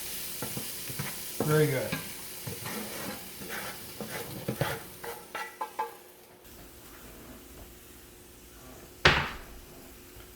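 Vegetables sizzling and being stirred in a pan on a flame-thrower grill, with a run of scraping stir strokes early on, a brief clatter near the end, and a short spoken remark.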